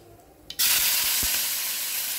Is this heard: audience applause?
no